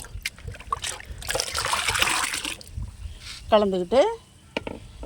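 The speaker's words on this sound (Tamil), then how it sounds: "இதை வந்து இந்த தண்ணியில் ஊற்றி அப்படியே ஃபுல்லாக ஊற்றி கலந்துக்கிட்டு" Liquid is poured into water and stirred in a garden plant-booster preparation, a soft trickling pour followed by quieter mixing sounds, with a person talking over parts of it.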